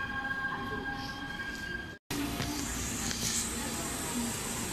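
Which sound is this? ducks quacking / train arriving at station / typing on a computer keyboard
train arriving at station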